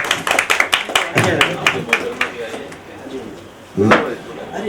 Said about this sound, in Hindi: जोरदार तालियों के साथ आप स्वागत करें।